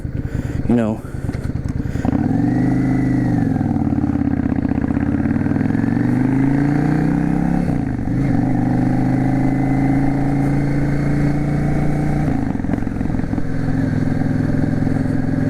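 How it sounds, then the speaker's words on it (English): A Yamaha V Star 650 Classic cruiser motorcycle engine rumbles steadily while riding, with its low, throaty note rising and falling as speed shifts, loud and close throughout. "I can't get over the tone of this bike. It sounds so good."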